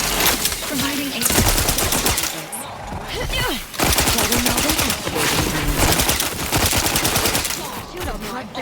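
Sustained automatic gunfire in Outer Worlds 2, rapid loud bursts of shots broken by a brief pause, with a voice talking over the shooting.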